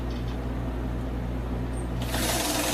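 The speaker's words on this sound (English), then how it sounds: "This is the best sew machine." A sewing machine stitching fabric for a dress for an 18-inch doll, its motor whirring in a close, steady, continuous hum that grows slightly brighter near the end.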